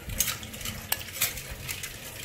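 A spoon stirring a red ant egg salad in a bowl, close by, with repeated clinks and scrapes of metal against the dish in an uneven rhythm.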